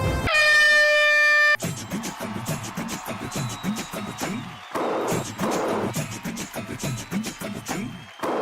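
A game show air horn sounds in one loud, sustained blast to signal the start, then gives way to music and busy studio noise.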